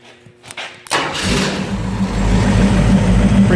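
An AMC 401 V8 in a 1951 Willys Wagon with Flowmaster mufflers cranks briefly, catches with a thump and settles into a loud, deep, steady idle that swells slightly, close by and with no talk.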